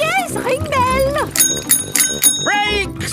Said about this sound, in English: Ring your bell. Oh yes, ring bell.